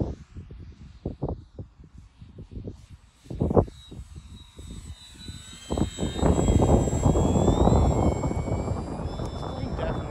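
Durafly P-40 Warhawk RC model WWII fighter plane flying, an electric motor whine that rises from faint to a sustained, louder drone in the second half, with someone talking over the first part.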